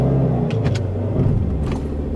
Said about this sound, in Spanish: Aceleras, vamos a hacerlo ahorita, revolucionas el auto y cambias a drive.